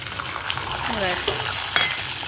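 Peanuts hit hot oil already holding curry leaves, giving a loud, steady sizzle with a few stirring scrapes and light pops over a couple of seconds.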